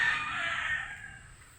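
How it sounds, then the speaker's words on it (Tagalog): A single drawn-out rooster crow rings out close by on a farm, bright and sustained before tapering off, with no voices. "May mga manok pa kasama."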